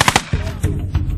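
Musket gunfire crackles in a battle scene, two sharp reports up front followed by a rumbling, ragged roll of further shots, loud and dense.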